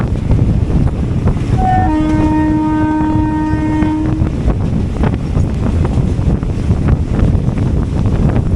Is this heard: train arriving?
yes